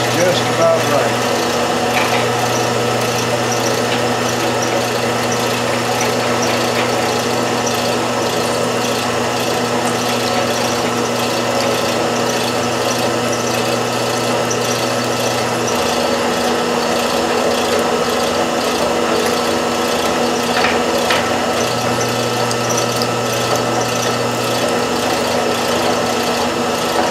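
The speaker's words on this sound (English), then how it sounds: "We're going to put the 3/8 inch hole in here." A drill bores a 3/8 inch hole into a metal bullet sizer for .38 Special, a steady whirring grind that runs continuously with a pause in the middle before resuming.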